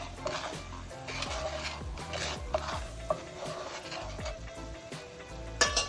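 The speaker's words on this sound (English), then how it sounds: "Stir away. Stir away." A spoon stirs nutmeg-spiced candied yam syrup in a pot, giving soft, close scraping and rubbing strokes with a faint sizzle beneath and a few sharper knocks of utensil against the pan.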